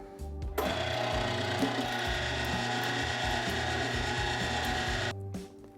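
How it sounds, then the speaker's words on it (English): An electric mixer churning sausage meat with crushed ice, starting abruptly into a loud steady mechanical whir with rhythmic grinding and clatter, then cutting off about five seconds later. "turn on my mixer"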